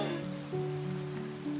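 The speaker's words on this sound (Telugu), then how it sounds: "ఎంత పెద్ద వర్షం పడుతోంది" Heavy rain falling in a steady, dense patter on surfaces, continuous throughout, with a sustained tonal hum running underneath.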